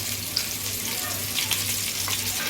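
Stuffed tambushi fish frying in a little oil in a pan, a steady close hiss and crackle of sizzling oil with a low hum underneath, continuous throughout.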